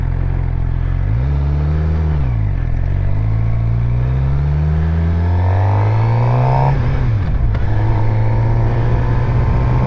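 A motorcycle engine revs up and down through gear changes while riding on neighborhood and back roads, loud and close, with a steady drone between throttle swells and no talking.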